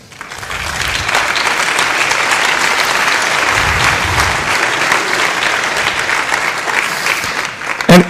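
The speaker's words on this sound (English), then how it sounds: "So you should actually give yourselves a huge round of applause for that." Conference audience at FOSDEM 2009 breaking into applause, a dense, loud, sustained wash of clapping that swells quickly and holds steady before a brief knock near the end.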